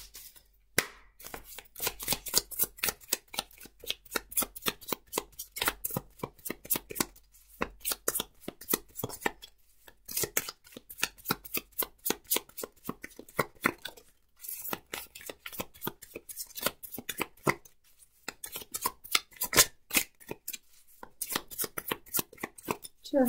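Tarot cards being shuffled by hand, a continuous run of quick crisp riffling flutters in uneven bursts with short gaps, close and fairly loud.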